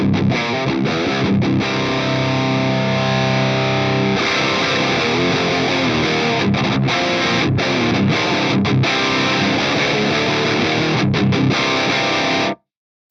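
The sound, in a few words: guitar through Axe-Fx III Triaxis Pre-Lead 1 amp model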